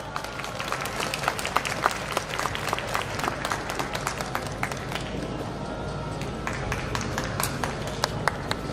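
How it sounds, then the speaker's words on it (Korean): An audience at a memorial rally applauds steadily, dense clapping sustained for several seconds with a few sharper individual claps standing out, moderately loud and close. "큰 박수로 맞이해 주세요."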